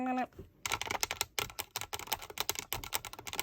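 Long press-on nails clack in a quick run of sharp, dry taps, close and fairly loud, the clicks coming in uneven bursts with brief gaps and no talking.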